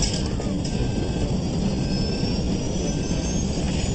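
Steady, loud broadband roar inside a West Caribbean jet airliner as it falls from about 31,000 feet, a constant rushing engine and airflow noise with no pauses and no voices.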